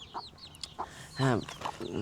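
A hen clucks softly among her small chicks in a backyard coop, with short clucks, high chirps and one louder drawn-out call, heard close up and alone.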